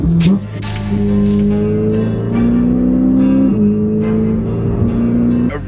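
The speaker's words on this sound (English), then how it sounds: "There's nothing better than Ferrari downshifts" A Ferrari engine downshifts with rising and falling revs, its tones stepping up and down across several gear changes, loud and close with the car underway.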